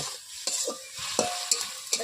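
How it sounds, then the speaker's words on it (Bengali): Spinach greens cooking in a pot with water, stirred in a few short scraping strokes over a soft bubbling simmer, close and moderately loud, no talk. "একটু নাড়াচাড়া করি, আবার ঢেকেও দিচ্ছি।"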